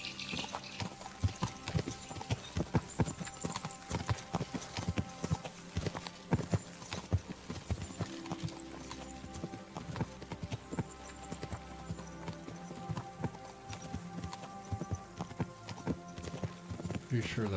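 Horse hooves clip-clop steadily in Kingdom Come Deliverance II, a brisk continuous patter under game music and a person talking, with a brief whinny at one point.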